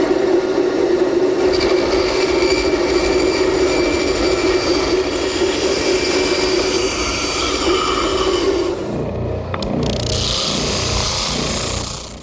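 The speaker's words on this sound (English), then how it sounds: "I'll rough it out at the bandsaw and smooth it up at the spindle sander." A bandsaw roughs out a wooden part for a library ladder with a loud, steady mechanical drone and whine, which shifts near the end to the duller hum of a spindle sander smoothing the wood.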